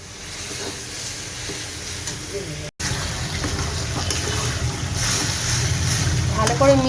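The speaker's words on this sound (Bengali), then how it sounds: "এরপরে আমি এর মধ্যে লোটে মাছটা দিয়ে দেবো, সেদ্ধ করে রাখা যে লোটে মাছটা।" Boiled Bombay duck (lote fish) dropped into masala frying in a pan, with a steady sizzle, a momentary cut, then louder, busier sizzling and spluttering.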